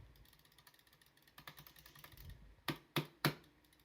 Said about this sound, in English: Mouse clicks in comparison, like it's pretty quiet